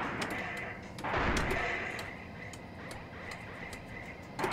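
Missiles launch in a bridge-strike video game: a burst of heavy booming fire with rumbling low-end swells at about one second, steady dense rumbling after, and sharp ticking clicks throughout, closing with another louder blast near the end.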